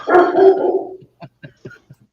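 A dog at a house window barks at a passerby: one long, loud, rough bark, then a run of short, quieter yips and woofs.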